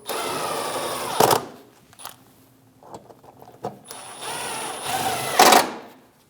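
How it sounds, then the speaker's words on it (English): A power driver runs screws into the fender liner of a 2016 or later Chevrolet Malibu, two loud whirring bursts with sharp spikes as each screw seats, separated by quiet clicks and handling noises. "Install the top 2 screws"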